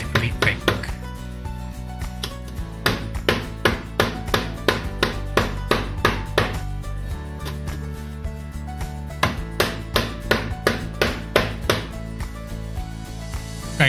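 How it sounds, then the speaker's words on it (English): Repeated dull thuds of a rolling pin pounding wrapped pork katsu cutlets on a kitchen counter, a steady run of close, even strikes with a brief pause midway before the pounding resumes. "wrap it up and take a rolling pin or something similar and pound it all over"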